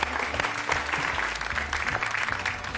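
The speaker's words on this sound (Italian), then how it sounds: "e vorrei un applauso dal pubblico." Studio audience applause on an Italian television cooking show, a continuous wash of clapping from many hands, steady and fairly loud for the whole stretch.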